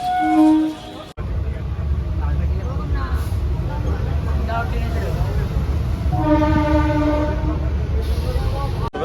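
A train at Bidhannagar station, with a loud rumble of rail cars and horn-like tonal toots at the start and again midway, heard up close in a busy station setting.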